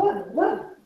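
A dog barks nearby in two short, throaty bursts, with a voiced, almost laugh-like tone that trails off.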